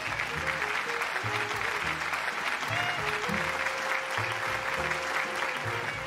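An audience applauds at a high school scholarships and awards ceremony, with dense, steady clapping through the whole stretch and faint tonal sounds underneath.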